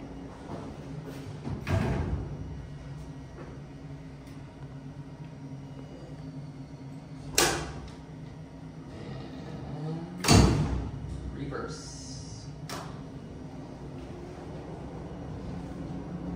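Otis freight elevator doors close with several sharp mechanical thumps and clunks spread over a steady low machine hum, with faint voices in the background.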